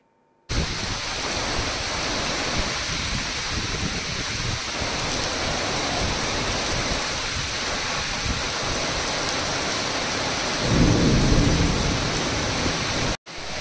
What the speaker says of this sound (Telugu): భారీ వర్షాలు కురుస్తున్నాయి.